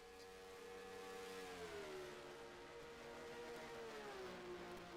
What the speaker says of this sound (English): That Porsche flat 12 engine, though, sounds divine in the 917.